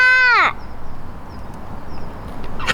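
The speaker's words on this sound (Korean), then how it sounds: "어린이집 까치가 있어" A magpie near a daycare gives one loud, harsh, descending call at the start, then falls silent over soft outdoor ambience.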